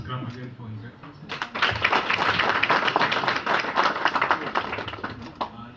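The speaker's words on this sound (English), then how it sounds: "Let us clap again for His Excellency." An audience at a formal event breaks into applause for a dignitary after a brief spoken line, with dense, sustained clapping that gradually fades toward the end.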